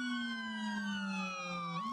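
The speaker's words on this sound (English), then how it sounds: "With a siren salute, he was brought into the town under a flag flown in his honor." A police siren wails in a steady, slowly falling tone, then rises again near the end, moderately distant, as part of a siren salute for a fallen officer brought into town.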